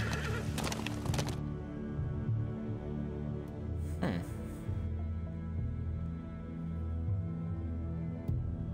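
Horse neighing in The Walking Dead video game, a whinny rising mid-clip over a steady low game soundscape, with brief clattering bursts early and a faint knock near the end.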